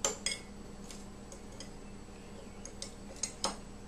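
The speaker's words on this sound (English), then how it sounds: "We'll give it a gentle stir," A spoon gently stirring dry active yeast and sugar into lukewarm water, light clinks and ticks against a bowl at irregular intervals, close and faint with no talking.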